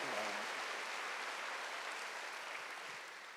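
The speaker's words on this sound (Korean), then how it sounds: "박수로 하세요" Congregation clapping at a Sunday worship sermon, faint and far away, a steady diffuse patter that gradually fades toward the end.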